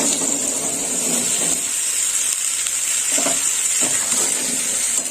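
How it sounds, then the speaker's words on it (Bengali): Bottle gourd pieces frying in hot oil left over from potatoes, a dense continuous sizzle and hiss close up throughout, with a few faint utensil stirs underneath and no voices. "এই তেলেই আমি"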